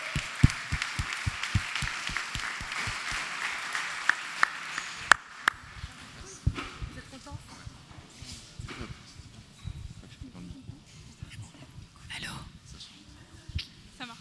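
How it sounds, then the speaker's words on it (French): An audience at a climate festival talk applauds two presenters, a short burst of fairly quick claps from a small group that fades after a few seconds into room noise, shuffling and murmuring voices. "Et on les applaudit."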